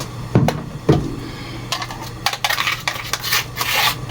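Hardened salt scraped and knocked out of its container with a utensil, several sharp clinks and scratchy rasps close up, irregular and quiet between strokes.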